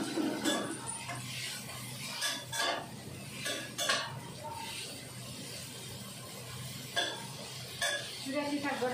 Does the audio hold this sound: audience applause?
no